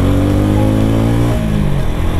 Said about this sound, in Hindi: एंड इस बाइक का जो एग्जॉस्ट नोट है ना,